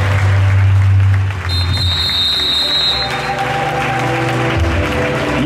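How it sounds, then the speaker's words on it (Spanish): A basketball crowd at a school cup game applauds in tribute to Kobe Bryant, steady clapping spread through the stands with a sustained whistle and a low hum underneath. "Vamos a aguantar 24 segundos y aplaudiendo a Kobe Bryant."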